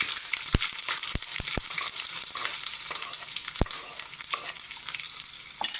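Steady sizzling of small onions and ginger frying in hot oil with popping mustard seeds, a few sharp pops and crackles scattered through the continuous hiss.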